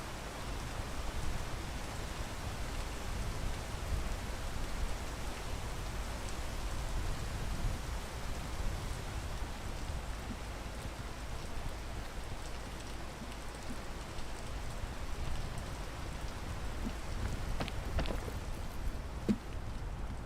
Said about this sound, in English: Now I gotta wait for the rain.